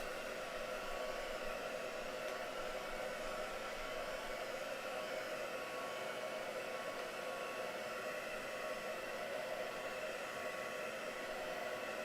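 A heat tool blows continuously while drying texture paste on a craft piece, a steady, even, close whooshing hiss that holds constant for the whole stretch with no talking.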